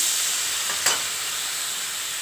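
Mushrooms frying in a pan with a constant hiss, and a brief louder surge of sizzle as a splash of water is added, close by and with no voices.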